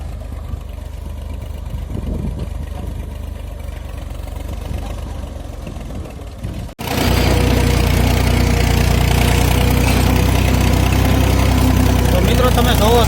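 A tractor engine hums while ploughing, first fairly muffled and distant, then after a sudden cut roaring loud and close with a steady low drone and rattle; a voice talks in the first part.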